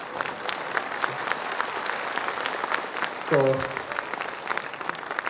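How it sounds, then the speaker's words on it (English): An audience at a school event applauds steadily in the background, a soft continuous patter of many hands, while a voice briefly speaks over it. "The biggest claps were reserved for this."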